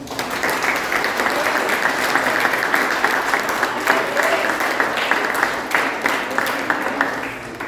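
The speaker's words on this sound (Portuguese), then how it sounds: "Aplauda Jesus, irmãos" A church congregation at an evening worship service applauds loudly and continuously, a dense wash of clapping with voices rising faintly underneath.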